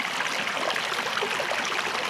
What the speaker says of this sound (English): And here we have our creek.